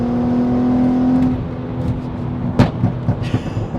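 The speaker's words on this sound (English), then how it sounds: "You can also get it to just crackle away nicely." VW Golf R32 MK5 with a stage 2 exhaust, naturally aspirated: a steady engine drone fades, then a run of sharp pops and crackles bursts out close to the microphone.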